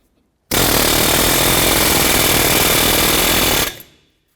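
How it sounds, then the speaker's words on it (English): Air chisel hammering to loosen a splined CV axle from the front hub of a 2008-2012 Jeep Liberty, one loud, rapid pneumatic burst of about three seconds, starting abruptly and cutting off cleanly, close up. "I'm going to use an air chisel."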